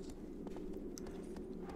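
Agro the horse gallops in Shadow of the Colossus, hooves pounding in quick, even clip-clops over a steady low game drone, faint and close.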